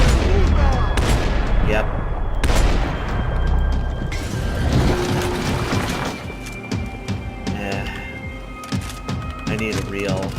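Auto shotgun fire in the video game Max Payne 3: heavy, loud booms crowd the first few seconds, then lighter game clatter and mechanical noise follow, while someone briefly speaks over it.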